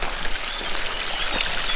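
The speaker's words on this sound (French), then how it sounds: "C'est un ruisseau qui se jette dans la rivière" A small stream trickling and splashing as it runs into a river on a countryside hike, a steady close water rush with no voices.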